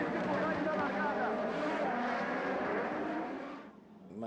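Formula 1 race cars roar away at the start of a Grand Prix, a dense, loud wall of engine noise that holds steady for several seconds before briefly dropping off at the end.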